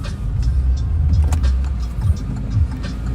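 A car drives along a road with a steady mid-range engine and tyre rumble, up close and fairly loud, shifting slightly as it moves, with no talking.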